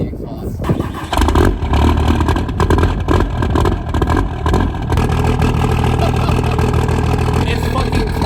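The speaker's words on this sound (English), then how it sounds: "Cold start? Might not start, honestly." An OBS Ford F250 truck engine cold-starts on a freezing day: it cranks, catches about a second in, then settles into a loud, rough, steady run close by, with voices talking over it.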